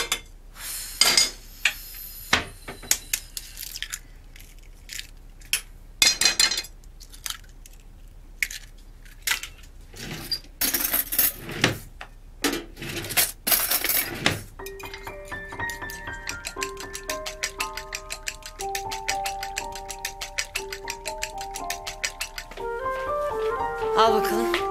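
Dishes, pots and cutlery clink and clatter close by in a kitchen while egg bread is made, irregular sharp knocks and scrapes giving way to a busier run of rapid metallic tapping, with faint speech at times.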